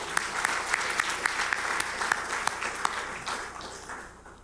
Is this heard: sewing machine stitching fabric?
no